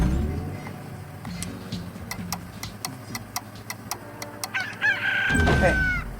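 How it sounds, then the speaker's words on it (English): Chickens and roosters in the video game Slime Rancher give a run of clucks and ticking pecks, building to a loud crow near the end over background game music. "Now go get yourself some chickens and some roosters."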